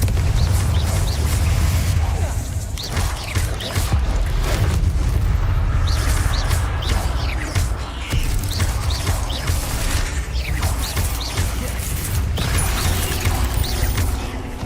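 Incendio and Confringo spell blasts in Hogwarts Legacy crackle and boom in a steady barrage, with repeated bursts and mechanical rumbling layered over a dense, loud game soundscape.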